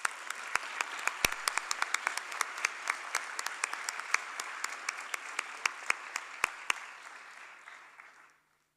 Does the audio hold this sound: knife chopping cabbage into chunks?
no